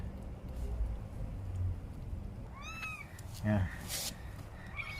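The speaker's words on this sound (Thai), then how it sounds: "ความรักของแม่แมวกับลูกแมว" A mother cat and kittens meow, one high rising mew and shorter cries, heard close over a continuous background rumble, with people speaking softly nearby.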